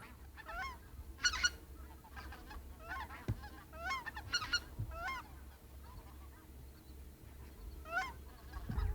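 Greater white-fronted geese, also called speckle bellies or specks, honk in repeated clusters of calls at moderate distance over a steady low background rumble, with no talk.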